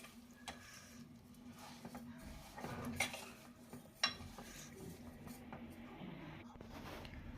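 Carrot halwa with milk and sugar is stirred in a pan, with a spoon scraping and clinking against the metal. The strokes are quiet and irregular, and a couple of sharper knocks stand out.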